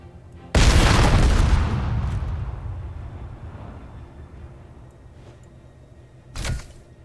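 A precision weapon fires at a ship in the game Space Engineers: one loud, booming shot with a long rumbling decay, then a second shorter crack about six seconds later.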